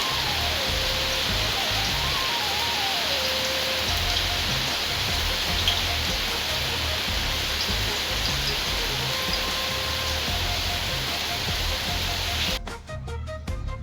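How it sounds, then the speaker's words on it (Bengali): Heavy rain pours steadily outside, a dense, unbroken hiss that lasts throughout at even loudness, with a faint melodic tone drifting underneath and a brief clattering patter near the end. "বৃষ্টির শব্দ শুনে বুঝতেই পারছো কত জোরে বৃষ্টিটা হচ্ছে"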